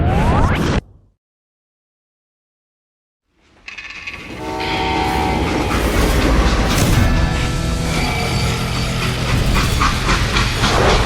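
Freight train in the Call of Juarez Gunslinger video game, a loud steady rumble of rolling cars with hissing steam and rattling metal that rises after a brief silence and keeps going to the end.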